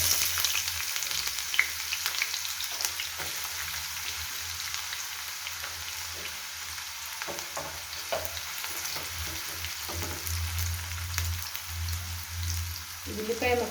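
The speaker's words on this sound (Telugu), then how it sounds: "ఆయిల్ వేడైంది కదా, కట్ చేసి పెట్టుకున్న ఉల్లిపాయ ముక్కలు వేసుకుందాం." Chopped onions frying in hot oil for a prawn and gongura curry, a steady broadband sizzle with soft crackles and occasional stirring scrapes, close and continuous with no talk.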